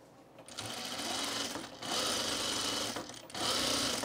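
Sewing machine stitching a curved yoke on a men's shirt, running in three steady, continuous bursts separated by brief pauses, close and fairly loud with no talking.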